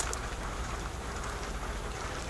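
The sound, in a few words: rain falling outside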